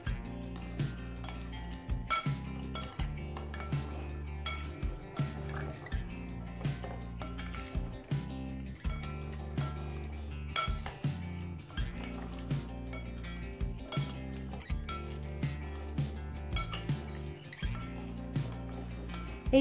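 Fruit chaat with spices is tossed in a bowl, giving repeated soft clinks and wet, rhythmic mixing sounds, close and quiet, with steady music playing throughout.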